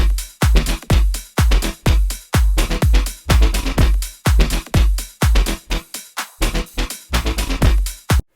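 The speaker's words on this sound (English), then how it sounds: "I have made this very, very quick house drum groove with a bass line that sounds like this." A steady four-on-the-floor house drum beat with punchy kicks and crisp hats, a deep bass line pulsing underneath, loud and continuous throughout.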